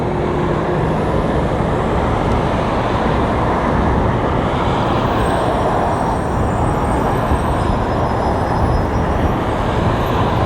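Airliner touching down in a gusty crosswind at Las Vegas airport, a loud continuous roar of engines and wind-buffeted rumble throughout, close and unbroken.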